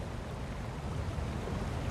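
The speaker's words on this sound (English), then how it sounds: "Listening to the river." Steady rushing water from a river with a waterfall ahead in The Lord of the Rings: Gollum, a continuous broadband wash with a low rumble, moderately loud and unbroken, with no talking.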